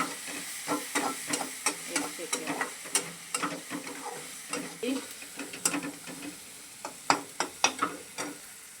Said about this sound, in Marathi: तर भेंडी टाकते ह्याच्यात परतून घेऊन